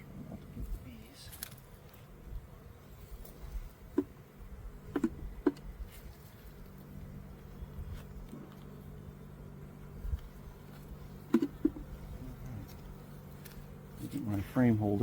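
Honeybees hum steadily around an opened hive during a spring inspection at an apiary, a low continuous drone with scattered clicks and knocks of frames, while a person speaks now and then over it.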